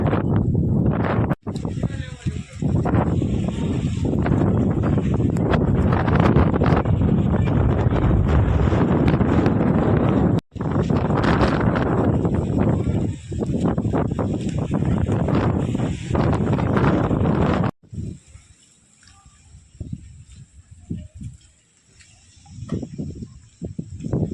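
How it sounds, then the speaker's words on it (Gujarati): Strong windstorm wind roars and buffets the microphone in a loud, continuous rush as rain begins, cutting out briefly, then easing to quieter gusts toward the end. "વરસાદ ચાલુ થઈ ગયો જેવો તેવો અને વાવાઝોડું ધીમું પડી ગયું"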